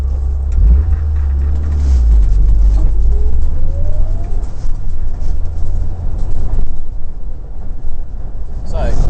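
A rally car accelerates smoothly through a right-hand bend on a rally-school course, its engine a loud, steady rumble heard from inside the car.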